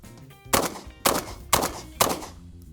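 Four loud, sharp shotgun blasts ring out at roughly half-second intervals, each with a brief ringing decay.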